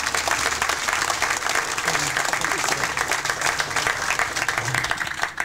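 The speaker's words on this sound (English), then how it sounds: "Let's give him a very nice round of applause" An outdoor crowd at a senior recreation center groundbreaking ceremony gives a steady, dense round of applause for several seconds, loud and sustained. Faint voices can be heard beneath it.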